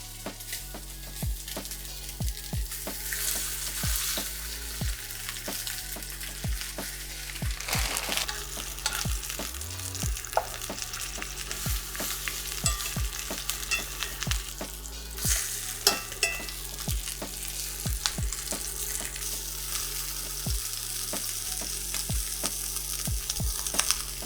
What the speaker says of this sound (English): Once you can tell the pan is hot, the oil will be smoking, you can just add the lamb shanks straight